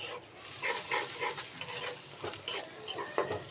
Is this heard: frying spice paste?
yes